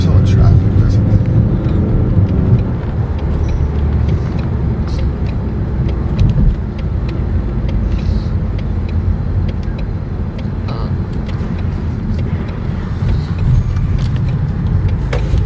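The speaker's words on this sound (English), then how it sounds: "There's a lot of traffic." Road traffic on a busy street heard from inside a car, a continuous low rumble of engines and tyres with passing vehicles swelling and fading, while people talk over it.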